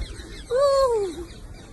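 A parrot perched on a person's head gives a single drawn-out call, with a harmonic tone that slides downward over about half a second. It sounds close and fairly clear against quiet background noise.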